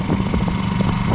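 A boat's generator drones at a constant level throughout, close by and fairly loud, with no voices over it, on a sailboat in Indonesia.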